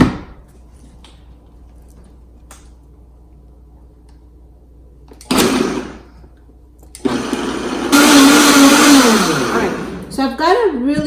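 Electric blender mixing coriander green chutney in a kitchen: after quiet stretches and a short burst, the motor whirs loudly for several seconds, rising and shifting in pitch as it churns, then winds down.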